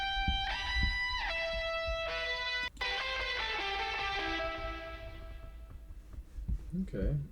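Synth-like music with sustained tonal chords fades away over a long reverb tail in a composition session, the harmonics thinning out gradually before a brief low sound at the end.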